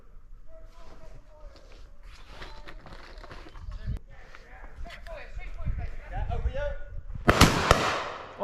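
Shotguns fire at a driven pheasant shoot in Wiltshire: a sharp, loud report bursts near the end, preceded by a fainter crack, over outdoor movement and people talking.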